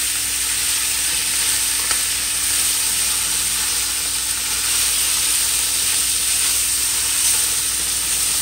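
Cauliflower and celery sautéing quickly in a hot pan for shrimp chow mein, giving a steady, close, continuous sizzle and hiss with faint stirring scrapes and no talking.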